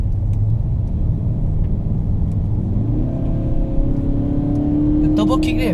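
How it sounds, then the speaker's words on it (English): A 2019 Kia Optima GT turbo engine accelerates in fourth gear, a steady cabin rumble building into a rising engine drone that climbs and holds loud over the last few seconds. "The turbo kicked in at 4000 RPM."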